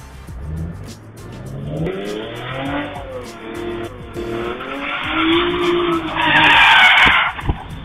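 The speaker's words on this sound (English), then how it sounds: "The car lost control due to a lack of speed control while turning left" A car skids out of control while turning left at an intersection, its tires squealing in long wavering screeches over the engine, growing louder and harsher toward the end before a brief thump.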